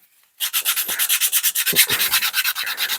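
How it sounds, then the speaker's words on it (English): Hand-sanding an MDF terrain building with sandpaper or an emery board makes fast, rhythmic back-and-forth scratchy strokes, about seven per second, close and clear with no talk. "And just give it again, going over with the sandpaper"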